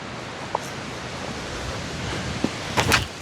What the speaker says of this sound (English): We got a ripping headwind right now.